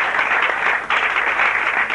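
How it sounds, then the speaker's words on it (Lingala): Audience applause at a fashion show honouring the models, a dense steady wash of many hands clapping close and loud for about two seconds, with a brief dip partway through. "nous allons applaudir pour le mannequin de"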